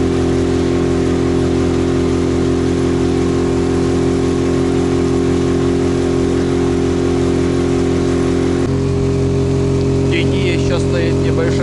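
Outboard motor pushing a heavily loaded boat across water on a misty morning, a steady, loud drone that shifts slightly in pitch partway through, running alone without talk.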